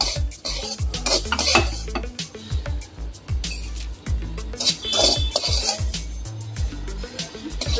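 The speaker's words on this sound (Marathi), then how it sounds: "आता हा आपण प्लेटमध्ये काढून घेऊन बाजूला ठेवणार आहोत।" Roasted semolina for a Diwali ravali sweet is scraped from a pot onto a plate, with steady metal utensil stirring, scraping and clinking of pots and pans, loud and close, with no talking.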